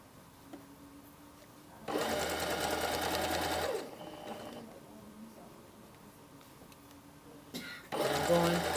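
Sewing machine stitches the lining hem seam of a jacket in fast whirring bursts, running for about two seconds, pausing, then starting again, with quiet handling sounds between runs.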